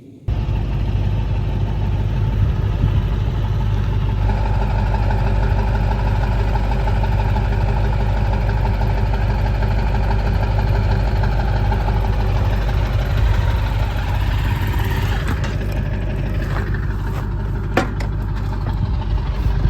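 A 4x4 truck engine runs at a steady idle, a loud, close, continuous low rumble with a slight knock, while a few faint clanks and rattles sound near the end.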